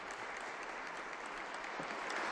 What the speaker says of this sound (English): The diplomats here in the Aula della Benedizione, applauding the discourse